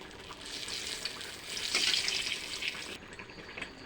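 Bay leaf frying in hot oil for an Assamese-style fish curry, a steady hissing sizzle that swells midway and then drops away.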